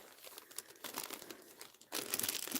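Craft papers being handled up close, soft irregular crinkling and rustling that grows louder and denser toward the end, with no talking.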